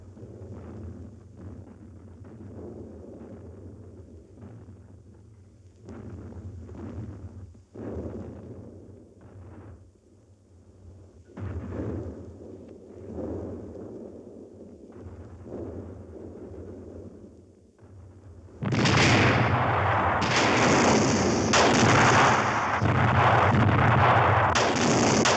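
WWI artillery bombardment of German lines at Verdun, rumbling distant booms and cannon fire repeating irregularly, then swelling into a loud continuous roar of shelling near the end.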